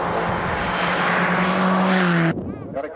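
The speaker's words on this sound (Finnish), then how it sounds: "Nyt lähtee Nikko liikkeelle. Eli kaksi autoa on aina samaan aikaan tässä" A rally car on a special stage at a Finnish national championship event in winter, its engine note rising loud and close with a sustained rising whine before cutting off abruptly as it passes, leaving quieter fading engine sound.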